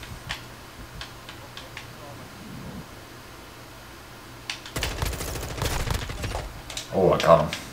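Gunfire in Modern Warfare 2 on a small mall map, scattered ticking shots early, then louder rapid bursts of automatic fire toward the end, under players talking.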